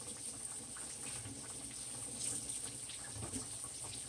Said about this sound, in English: see that chicken when it gets to a rolling fry like that?